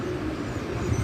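A Teddy pigeon coos in soft, low, continuous murmurs at close range, with a steady background hum and no voices.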